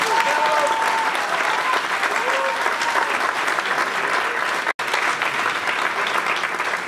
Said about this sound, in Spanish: agradezco el aplauso, para mí significa mucho